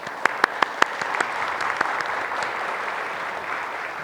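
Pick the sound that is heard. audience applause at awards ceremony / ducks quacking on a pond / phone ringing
audience applause at awards ceremony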